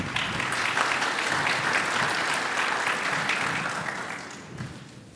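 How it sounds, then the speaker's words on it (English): Conference attendees at an economics session applaud after a speech, a short burst of dense, even clapping that dies away over about five seconds. "It is not part of our tradition to give an applause to each speaker who speaks"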